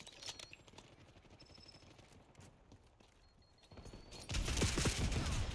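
Rapid automatic gunfire rattles through a multiplayer shooter video game, bursts of shots that swell into heavy, dense firing toward the end, close and loud with no talking.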